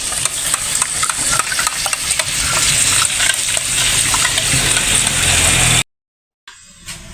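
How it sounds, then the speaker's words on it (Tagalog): Sauce thickened with cornstarch for escabeche tilapia is stirred steadily in a pan, a dense continuous scraping and bubbling that runs loud and close before cutting off abruptly, followed by a brief quieter stretch. "Haluin natin hanggang mag-well combine"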